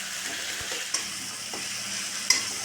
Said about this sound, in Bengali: টমেটোটা যতক্ষণ না নরম হয়ে যাচ্ছে ততক্ষণ কষতে থাকবে